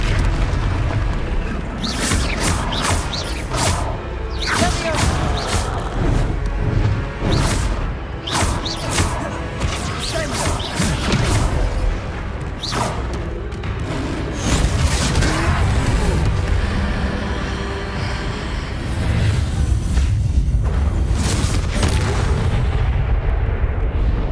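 Confringo explosion spells blast a troll in Hogwarts Legacy, a string of loud booming explosions in rapid irregular bursts, followed by a heavy rumbling roar over the later stretch.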